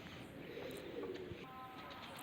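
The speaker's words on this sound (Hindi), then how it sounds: "ये कबूतरे बैठे हैं" Pigeons on a high-flying pigeon loft rooftop coo softly in a low, rolling murmur, faint and fairly close, with a brief faint chirp near the end and quiet background noise.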